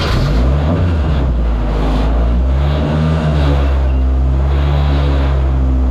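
A 2-litre saloon stock car engine runs loud and close, its low rumble rising and falling in rough revving surges throughout, with no talk.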